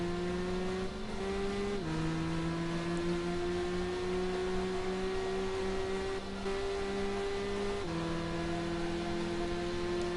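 Race car engines in the video game Gran Turismo 5, a steady faint high-pitched engine drone holding pitch with brief shifts, several cars racing together, no talk.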